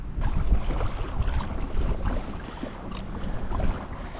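Wind gusting across a lake during a kayak bass fishing outing, a steady low rumble of microphone buffeting with surging gusts and faint water sounds, no talking.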